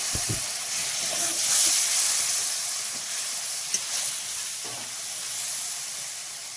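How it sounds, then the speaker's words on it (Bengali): Spice paste sizzles steadily in a pan while being sautéed with a little water, a soft continuous hiss running close and even throughout with no talking. "অল্প একটু জল দিয়ে কষিয়ে নেব।"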